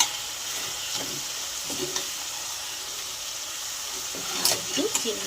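Spices and green peas with Kashmiri chili powder and sugar sizzle in a pan as they are fried and stirred, with a constant soft crackle and occasional scraping and clinking of the spoon.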